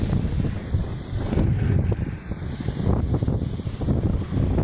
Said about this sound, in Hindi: यहाँ पर काफ़ी ज़्यादा तेज़ हवा चल रही है, आप लोगों को कैमरे के अंदर भी आवाज़ जा रही होगी